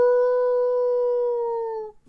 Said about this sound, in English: Oh yeah, he's gonna bark at that.